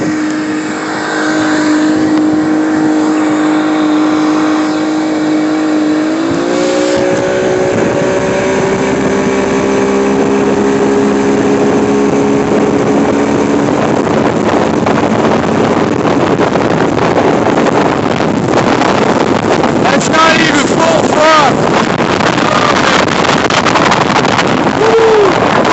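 An older Johnson outboard motor pushes a boat across open water, loud and close throughout. Its steady engine drone rises in pitch as the throttle opens, with wind buffeting the microphone.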